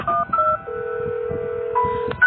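A telephone keypad is dialed to call a dead girl's parents: a quick run of clean touch-tone beeps, including one long held tone, sounds close and clear with no talking.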